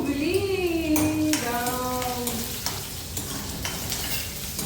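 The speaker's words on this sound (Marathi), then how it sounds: "हे लसूण पण मस्त तळून झालेलं आहे" Garlic sizzling in a pan while being stirred, with a steady frying hiss, scraping stir strokes and a brief whistling tone near the start, heard close up.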